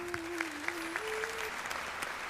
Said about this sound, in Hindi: पहली बात तो दीपिका के साहस के लिए जोरदार तालियां बजाइए।